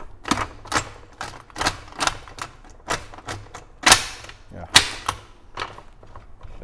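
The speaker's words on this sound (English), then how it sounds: "And I turn the shaft as I select the gears." A Honda K-series transmission on the bench clicks and clunks as its shaft is turned while gears are selected, giving a rhythmic run of sharp close mechanical snaps, two of them louder, with no talking.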